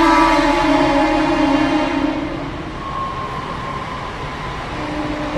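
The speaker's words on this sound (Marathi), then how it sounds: "ट्रेन येते आहे, आवाज थोडा ब्रेक होईल" A train pulls into a station with a loud, heavy rumble and drawn-out metallic squeals from the wheels and brakes that fade as it slows. No voices are heard.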